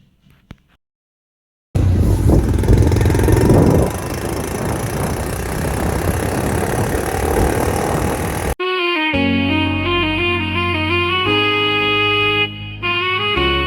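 A motorcycle rides along a road in Kashmir in December, giving a steady, loud broadband roar of engine and wind after a brief quiet start, before music takes over for the final stretch.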